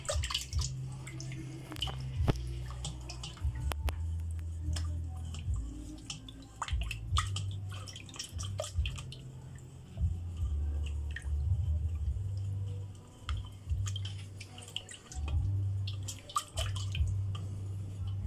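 Custard mixture stirred in a pot for a custard jelly graham dessert: soft, steady wet scraping and sloshing with small drips, continuous and fairly close, with a low hum running underneath.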